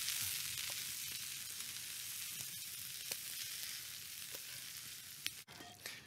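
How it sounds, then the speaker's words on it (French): Peas simmering and sizzling in sauce in a cooking pot give a steady, moderately quiet frying crackle that runs through the whole stretch, with a few soft clinks toward the end. "Et on rajoute nos petits pois dans notre pot avec la sauce."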